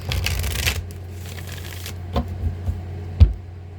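A Moonology oracle card deck is shuffled close by, with a dense riffle of cards followed by a few lighter taps and flicks of the cards.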